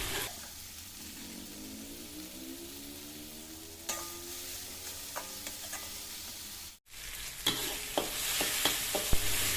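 Spice paste frying in a pan, heard up close as a steady soft sizzle that turns louder and brighter later, with stirring clicks and scrapes and no speech.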